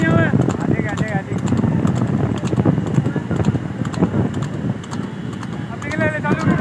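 A horse at a village horse race in Patepur trots with rapid hoof clops amid wind buffeting the microphone, while people talk loudly nearby throughout.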